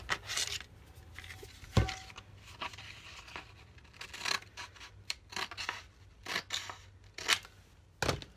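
Scissors snip and rasp through grass-textured paper being trimmed along a curve to fit a tapered epoxy tumbler, with repeated close crisp cuts and rustling paper handling, no talking.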